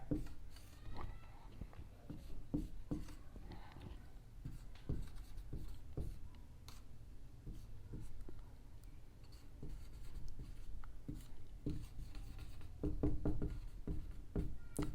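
Chalk or marker writing on a board during a chemistry lecture on aldol reactions, with faint scratchy strokes and soft taps repeating through a quiet room.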